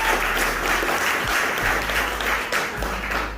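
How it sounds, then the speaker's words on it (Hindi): Studio audience applauds a woman at a motivational talk in a steady, dense burst of clapping that fills the whole stretch at even loudness. "तालियां मैडम के लिए"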